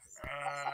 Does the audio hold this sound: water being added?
no